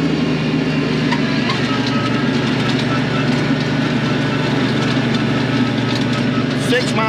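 Tractor in mid-range two-wheel drive powering a flail mower through its PTO at 540 RPM, giving a loud, steady droning engine roar with a constant low hum and no breaks.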